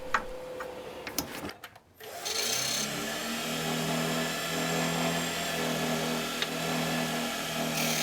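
A wood lathe spins a walnut ring box base, a steady mechanical whir with a low hum that settles in after a brief pause and runs on continuously, moderately loud and close.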